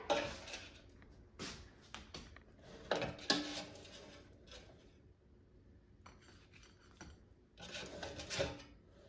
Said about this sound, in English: Let me just take it out of the air fryer.